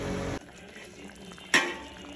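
A pot of sambar with homemade sambar powder and lentils bubbles quietly, a soft simmer at a moderate level, broken partway through by one sharp clink of a utensil against the pot.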